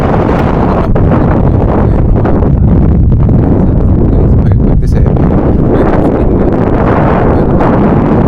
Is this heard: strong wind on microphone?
yes